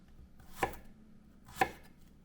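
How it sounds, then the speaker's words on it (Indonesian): A knife cuts through kencur (aromatic ginger) on a board in two quiet, separate chops about a second apart. "Ini kencurnya kita juga potong"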